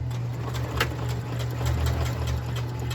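A sewing machine stitching fabric for a plant grow bag, running continuously as a steady motor hum with fast, even needle ticks, close and fairly loud throughout.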